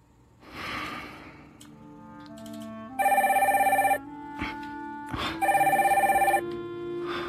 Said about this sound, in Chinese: 你电话响了，